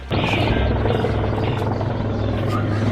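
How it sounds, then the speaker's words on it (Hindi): An air force helicopter carrying flood relief supplies flies overhead, its loud, steady rotor thrum and turbine whine continuous and close throughout. "बाढ़ पीड़ितों के लिए राहत सामग्री लेकर वायुसेना का हेलीकॉप्टर आसमान से आ रहा है।"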